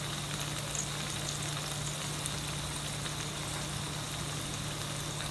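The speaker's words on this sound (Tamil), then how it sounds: "கருப்புலையும் இப்படி நசுக்கிட்டு போடுங்க, அப்போதான் அது வாசம் நல்லா அடிக்கும்." Crushed curry leaves sizzle in hot oil with a steady, even frying hiss, close and continuous, with no voices over it.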